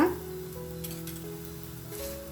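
Whole-wheat lachha paratha fries in oil on a pan, giving a steady, even sizzle close by after a brief clatter at the start, with no talking.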